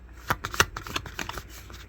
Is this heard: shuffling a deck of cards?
yes